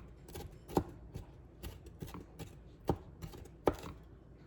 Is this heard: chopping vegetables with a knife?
yes